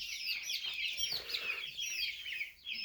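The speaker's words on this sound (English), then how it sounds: "we transfer chicks today" Chickens and young chicks clucking and peeping steadily together, with a turkey among them, a busy, continuous chorus of chirps and clucks close by with no talking.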